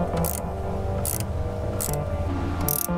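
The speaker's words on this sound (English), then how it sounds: "you're going to use a 10mm socket and wrench to tighten this down" A 10mm socket wrench ratcheting in quick repeated bursts while tightening a heat shield bolt on a Toyota Tacoma, with crisp close clicking over a steady mechanical background.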